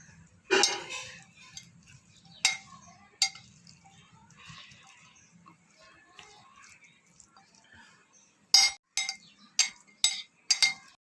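A spoon mixes chickpea salad with green chilli and yogurt in a bowl, giving scattered metallic clinks and scrapes, a few sharp taps early and a quick cluster of knocks near the end, quiet between.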